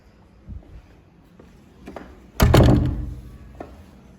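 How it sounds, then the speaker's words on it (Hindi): A house door swung shut during Diwali cleaning at home, landing as one heavy, loud thunk after a few faint knocks, then trailing off into quiet room noise. "ये हल लो तो दरवाजा बंद करना पड़ा है"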